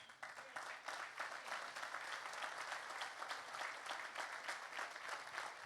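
Steady applause from an audience, many hands clapping continuously at an even level for several seconds, no speech on top.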